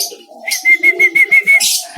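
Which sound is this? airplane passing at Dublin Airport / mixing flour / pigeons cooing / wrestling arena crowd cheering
pigeons cooing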